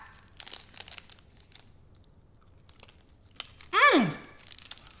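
An RXBAR honey cinnamon peanut butter wrapper crinkles softly in the hands, then gives a loud, brief tearing rip near the end, close up.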